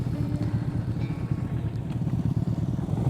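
A Honda Rebel motorcycle rides toward Yungaburra in unsettled weather, its engine a steady low throbbing rumble heard continuously at close range with a faint clatter on top.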